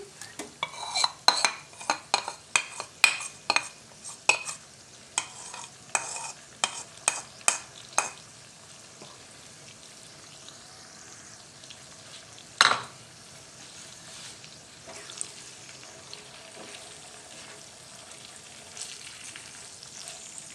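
Chicken is stirred and cooked in a pan for a white handi curry, a quick run of spoon scrapes and clanks over a light sizzle, then quieter frying with one loud knock midway.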